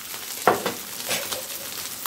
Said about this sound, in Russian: и обжариваем вместе с мятой где-то пару секунд